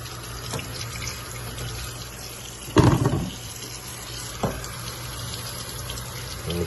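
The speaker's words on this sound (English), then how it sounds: "I wash my potatoes" Potatoes being washed under a running kitchen tap for homemade fries, a steady stream of water with a louder splash and rinse burst midway and a brief handling knock later.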